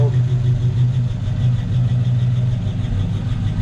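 A 1953 Ford F-100 half-ton pickup idles steadily up close, with a strong, even low rumble and a constant engine drone through the whole stretch and no break in the sound.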